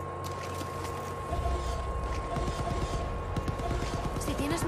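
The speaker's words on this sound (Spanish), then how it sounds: "Se escuchan disparos, tío." Gunfire in the video game Far Cry New Dawn, a steady crackle of distant shots through a low rumbling game soundscape, growing busier and louder after the first second.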